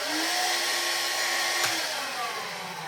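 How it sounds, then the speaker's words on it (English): Old Vax Air cordless vacuum cleaner being serviced, its motor running with a steady high whir and the brush roll spinning, loud and constant for a few seconds with no speech. "Let's check that the brush roll rotates."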